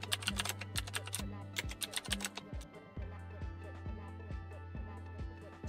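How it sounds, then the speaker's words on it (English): Keys clatter on a computer keyboard while text is entered for a Canva design, with quick bursts of crisp close clicks early and sparser taps later over a steady tonal background. "Type follow text."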